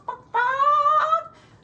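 A voice mimics a chicken with a short cluck, then a long, strained, rising squawk and a brief trailing cluck, loud and close, performed alone without accompaniment.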